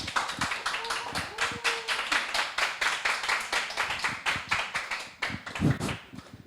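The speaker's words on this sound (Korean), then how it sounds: "자, 나오실 때 큰 박수 부탁드리겠습니다." An audience at a free public Bible study lecture on the AD 70 Jewish war claps to welcome the lecturer, an elder. The claps are crisp and distinct, steady and continuous for about six seconds before tapering off.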